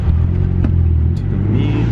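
A car pulls in to a car meet with a low, rumbling engine drone at close range, steady with slight revving and brief background noises.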